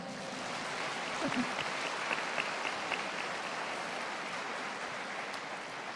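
A church congregation applauding at a Sunday night anniversary revival service, a steady wash of clapping from a large room that holds evenly throughout, with some faint voices beneath.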